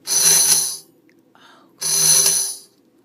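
A tambourine played as a sharp, biting accent sounds in two bright, jangling bursts, each under a second long, with a short quiet gap and a faint rustle between them.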